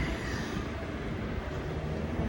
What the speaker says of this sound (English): Very late train.